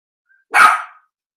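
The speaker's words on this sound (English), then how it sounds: "That dog's got no respect." A single sharp, loud dog bark close by, short and alone against silence.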